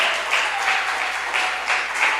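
Congregation applauding in a church service, a steady sustained wash of clapping across the whole stretch, moderately loud, with no speech over it.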